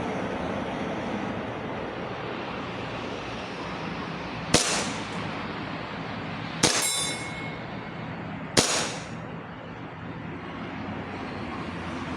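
A We Baby Hi-Capa BB pistol fired one-handed at a target with ceramic BBs, three sharp separate shots with ringing metallic impacts, a few seconds apart, over steady outdoor background noise.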